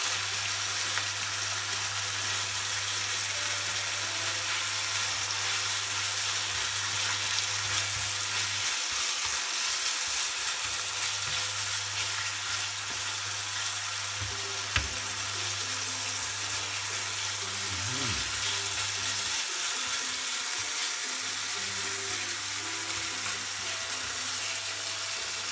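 Minced meat, miso and cabbage stir-frying in a pan, a continuous bright hiss of sizzling held close and steady for the whole stretch, with a low electric hum underneath and occasional faint clicks.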